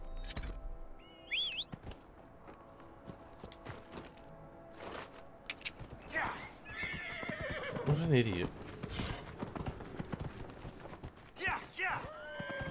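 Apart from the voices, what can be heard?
horse galloping and neighing in Dragon Age Inquisition video game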